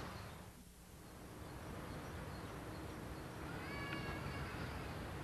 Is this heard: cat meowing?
yes